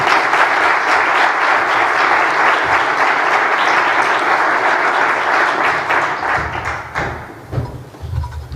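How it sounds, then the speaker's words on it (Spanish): A business-conference audience in Manzanares gives loud, dense applause welcoming the director general of a school for entrepreneurs, a sustained wash of clapping that tapers over the last two seconds into scattered claps and thumps. "Recibimos con un aplauso fortísimo a Antonio Noblejas Sánchez Migallón"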